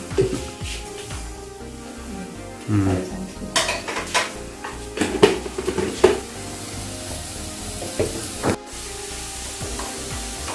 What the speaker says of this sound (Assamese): এতিয়া এই গাজৰখিনি আৰু চেনিখিনি একেলগে ভাজিব যেতিয়ালৈকে চেনিখিনি গলি নাযায়